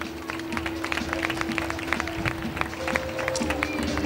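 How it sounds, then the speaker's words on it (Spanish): An audience at a San Roque coronation ceremony applauds for the newly presented queen and her partner, a steady, dense crowd clapping that carries on for several seconds at moderate volume with a constant hum beneath. "Fuerte aplauso para ambos."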